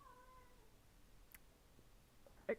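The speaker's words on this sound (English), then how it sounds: "if you hear like dying cat noises in the background," A cat yowls faintly in the background of a quiet indoor room, giving a few drawn-out meows early on and a short sharper cry at the end.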